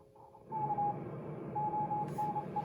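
A faint whistling tone wavers through hissing static on a Hammarlund HQ-100 shortwave receiver as its Q multiplier begins to oscillate, steady noise rising as the oscillation sets in, with a brief burst of hiss near the end.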